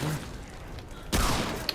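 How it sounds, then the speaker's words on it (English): Gunfire from a bow in the video game Remnant II, played on PS5: a single sharp, loud shot bursts in partway through, followed by a short ringing tail and a small click. "Shot him in the hand."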